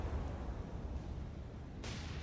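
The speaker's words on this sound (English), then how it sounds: "we engage the Yamato with our 16-inch cannons" Heavy 16-inch naval cannons firing at the battleship Yamato in the War on the Sea naval combat game, heard as a continuous low rumbling boom with a sharper burst near the end, no talk.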